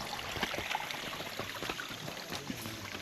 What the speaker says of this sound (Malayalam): അരുവി